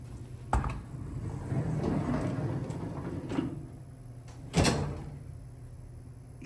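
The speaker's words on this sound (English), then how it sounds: "you can easily open the door when the elevator car is on the floor." The door of a vintage Westbrook traction elevator at Carroll Hall in Chapel Hill being opened by hand, with a sharp clack at the start, a sliding rumble, then a loud bang as the door stops, close and clear.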